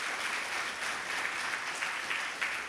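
A church congregation claps loudly and continuously in a large hall, a dense sustained applause with no voices standing out.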